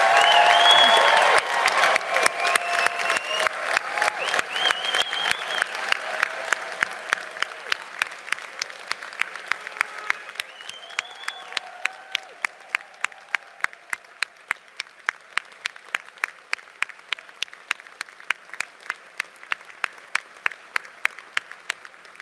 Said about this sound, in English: let's raise the roof with a final round of applause to congratulate our graduates